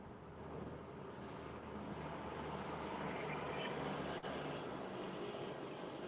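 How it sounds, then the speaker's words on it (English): Steady road rumble of driving through Brooklyn streets in Crown Heights and Bed-Stuy on a cold afternoon, a continuous traffic wash with faint higher hisses and no talking. "Take in the sounds of Brooklyn, New York, Crown Heights, Bed-Stuy"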